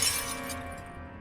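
Glass shatters in a video game, a single sharp crash with bright tinkling that fades quickly over about a second.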